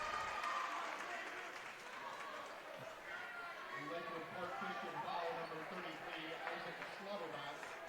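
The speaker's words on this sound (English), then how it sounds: "The Lakewood Park fans across the way are all standing, cheering on their Panthers." Boys' high school basketball crowd at a Blackhawk Christian versus Lakewood Park Christian game, fans on their feet cheering and applauding in a steady roar while a commentator talks over it.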